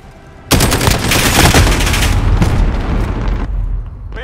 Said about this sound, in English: Sentry gun active.